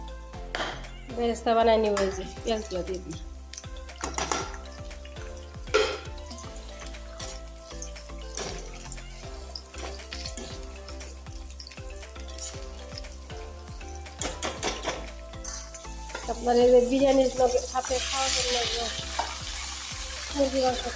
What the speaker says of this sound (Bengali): ডিমগুলো ভেজে নিই